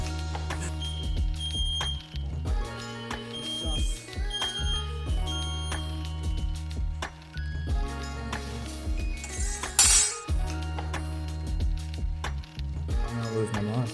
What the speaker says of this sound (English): the smoke detector keeps going off